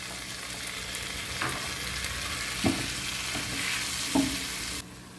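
Pumpkin stirred with sausage, tomato and seasoning in a frying pan, a steady close sizzle with a few soft knocks of the spoon against the pan, then the sound drops away at the end.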